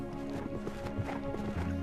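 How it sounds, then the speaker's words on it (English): Horses passing by with hooves clip-clopping in a steady trotting rhythm, fairly close and continuous over a low rumble, with faint snorting breath mixed in. "You could hear the horses, you could hear the breathing, you could hear them riding by."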